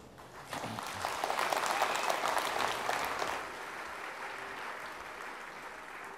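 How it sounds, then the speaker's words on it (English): A graduation crowd at De Montfort University bursts into clapping and cheering, a swell of applause that peaks early, then settles into a softer, steady clatter that continues without speech. "clapping, screaming, and cheering"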